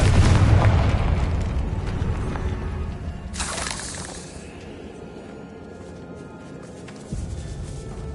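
Fiery Confringo blasting spell explosions in the Hogwarts Legacy video game, inside a decayed catacomb: a heavy low boom opens, then a bright crackling burst follows a few seconds later, with rumbling reverberation trailing off.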